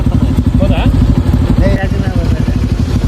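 A motorbike engine revving as riders set off on a trip to a waterfall, a loud, close, throbbing putter that runs throughout while people talk over it.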